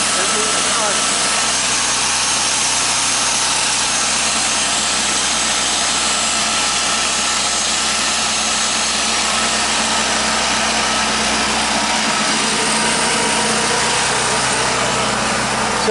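A Champion portable generator engine, just repaired with a new flywheel, runs steadily at a loud, constant drone with a low harmonic hum throughout.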